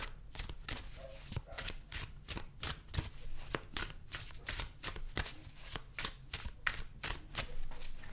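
Tarot cards shuffled continuously in a rapid riffling rhythm, close and crisp, with a brief voice underneath.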